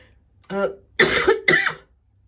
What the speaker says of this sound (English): I haven't coughed like that all day until now.